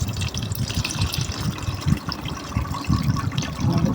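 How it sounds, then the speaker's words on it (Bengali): Bael fruit juice strained through a small sieve, a continuous close wet trickling and splashing of pulpy liquid with no talk. "একটি ছোট জালি নিয়েছি আঁশগুলো ছেঁকে ফেলার জন্য।"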